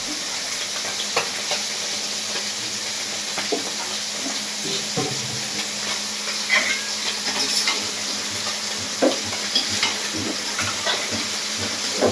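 A pan of boal fish curry with small potatoes sizzles steadily while being stirred, with a continuous close hiss and scattered soft scrapes and clicks of the spoon against the pan.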